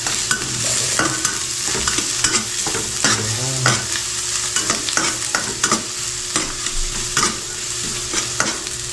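Garlic and ginger sautéing in a hot pan with steady sizzle and frying crackle, while a utensil scrapes and stirs in repeated close strokes throughout.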